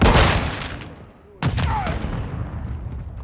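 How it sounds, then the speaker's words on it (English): A flash grenade goes off in Call of Duty MW2 multiplayer, a sharp loud bang after a brief lull, trailing into a ringing hiss amid ongoing gunfire-like noise. "Throwing flash grenade!"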